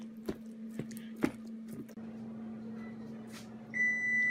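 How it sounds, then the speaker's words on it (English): A few soft clicks and taps over a low steady hum, then a high electronic kitchen timer beep starts near the end and keeps sounding, while focaccia dough is mixed. "There's my timer."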